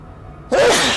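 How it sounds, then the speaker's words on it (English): A single sharp sneeze bursts out suddenly after a moment of quiet, loud and close. "Excuse me, just had to sneeze."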